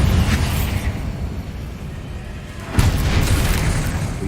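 Bombarda spell explosions in the video game Hogwarts Legacy: a loud booming blast, a rumbling decay, then a second sharp burst with heavy low rumble near the end.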